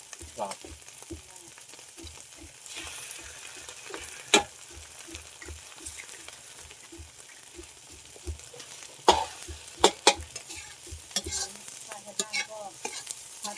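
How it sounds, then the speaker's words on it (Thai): Rice with egg stir-fried in a pan, with a steady run of scraping stirs over a continuous sizzle. A few louder clanks of the utensil against the pan stand out, and there is no talk. "ผัดข้าวนะวันนี้"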